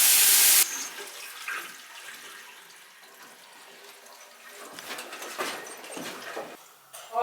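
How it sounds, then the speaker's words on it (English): Water runs and patters into a refilling toilet tank during house plumbing work, a steady hiss after a brief loud rush at the start, with gurgles and splashes swelling near the end. "this toilet was free, but it is filling up"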